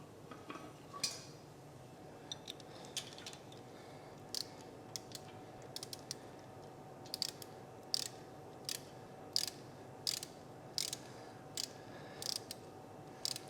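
Torque wrench tightening rear suspension bolts on a 1957 Chevy truck with a Dana 36 rear, a series of faint, sharp clicks that come in small clusters and grow more regular toward the end, with no talking.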